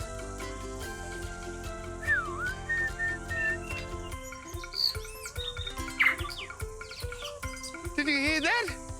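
A tui singing in a New Zealand forest, with clear liquid whistles and chirps over a background music bed, and a voice speaking nearby.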